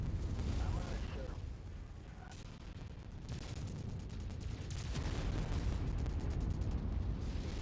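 Weapon fire in the game MechWarrior 5 (modded) booms and crackles in dense, rumbling bursts over a continuous roar, loud and sustained with layered impacts throughout.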